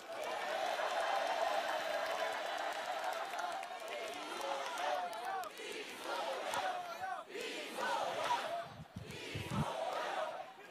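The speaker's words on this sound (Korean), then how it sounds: "큰 박수로 맞이해 주십시오" Crowd applause and cheering at a Democratic Party of Korea political rally, dense and continuous throughout, with voices shouting and chattering within the clapping.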